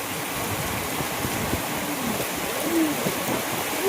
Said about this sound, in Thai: ฝนตกสกลนครเลยค่ะน้ำไหลมากเลยนะ